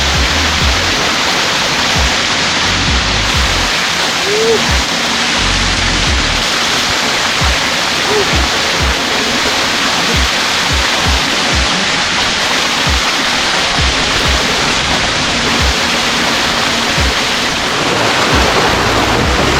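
At Nyabau Waterfall, water runs down from the hills in a loud, constant roar of falling water. It sounds close and steady for the whole stretch, with no talking.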